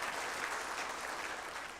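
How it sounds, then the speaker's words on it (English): Steady applause for team RSA01 at an earthquake response exercise at Nelson Mandela University, Gqeberha, a dense, even wash of many hands clapping throughout, with no break. "Can we give them a round of applause?"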